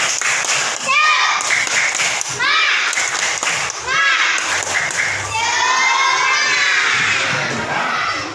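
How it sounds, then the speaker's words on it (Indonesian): Schoolchildren in a classroom shouting the tepuk semangat clapping chant in bursts, loud and close, with claps and excited high-pitched voices rising together across the stretch. "Coba, 1, 2, 3, tepuk semangat."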